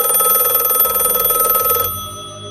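Telephone bell ringing in a rapid trill for about two seconds, then cutting off, leaving a faint hum.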